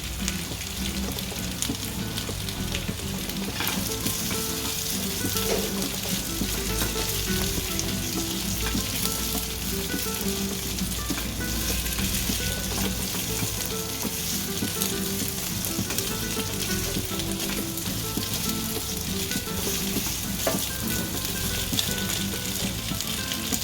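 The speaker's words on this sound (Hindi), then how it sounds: "अब हम इसमें कटे हुए आलू डाल देंगे" Chopped potatoes fry in a pan for dumaloo, a steady loud sizzle that holds without a break and carries occasional stirring scrapes.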